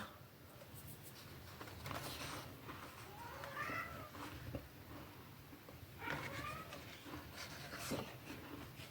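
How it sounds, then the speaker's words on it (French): A pet cat meows twice indoors, soft drawn-out calls a few seconds apart over a low room hum, with no talking. "Vous l'entendez, mon chat?"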